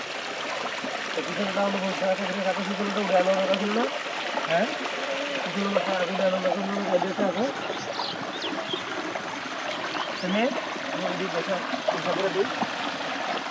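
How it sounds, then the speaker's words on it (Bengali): Water flowing steadily through a gap in a traditional village fishing trap, a continuous trickling wash with intermittent voices talking nearby over it. "সামনের যত পানি আছে এই খোপ দিয়ে পার হয়ে যাচ্ছে"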